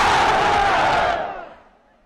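Huge political rally crowd at a PTI jalsa in Multan roaring a religious slogan in unison, a dense, loud mass shout that holds about a second and then fades away.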